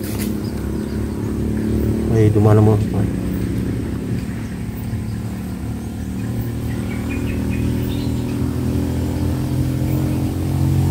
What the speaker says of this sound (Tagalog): Ayun nga motor no.